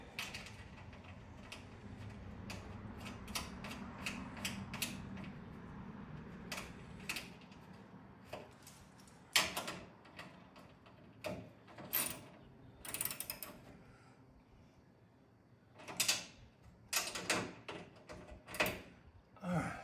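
Nuts are threaded and tightened on a garage door roller bracket during a DIY roller replacement, giving close, intermittent clicks, ratcheting and metallic clatter with quiet pauses and no voice.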